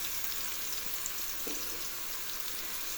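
Carrots and onions fry in a pan for broccoli soup, a steady, close hiss of sizzling oil with a faint scrape of stirring and no voices.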